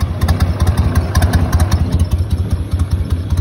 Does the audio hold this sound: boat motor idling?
yes